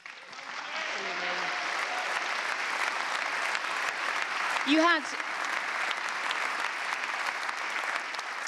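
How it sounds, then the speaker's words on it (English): A hall audience applauds steadily at the 2012/13 squash World Tour Finals, a match between Shabana and Matthew. The dense clapping runs the whole time, with a voice speaking briefly over it. "a deserved round of applause"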